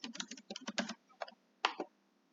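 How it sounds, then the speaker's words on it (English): Bursts of quick key clicks on a computer keyboard, close and crisp, in irregular clusters with short pauses and a final tap. "now we're going to type in kids"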